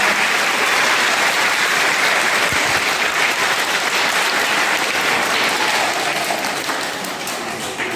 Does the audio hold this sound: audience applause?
yes